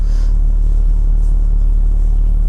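A Volkswagen Golf 7 R in sport mode with stability control off holds its engine at raised revs for launch control, a loud, steady, close low drone and rumble with a constant harmonic hum and no talking.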